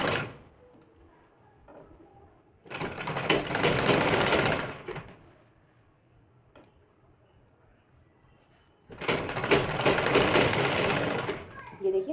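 A sewing machine runs in two long, loud bursts of rapid stitching along a kurti collar, with quiet pauses between them.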